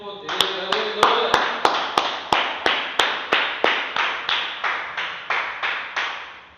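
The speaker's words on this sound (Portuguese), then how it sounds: "louvar a Deus com as palmas" A church congregation claps in praise, sharp even claps in a steady rhythm of about three per second that keep going throughout, with a voice heard briefly at the start.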